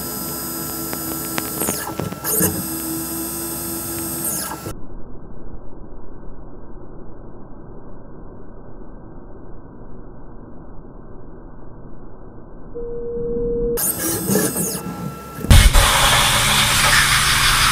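A Mitsubishi milling machine bores a hole, giving a steady low mechanical drone throughout, with louder, brighter broadband machine noise at the start and again near the end.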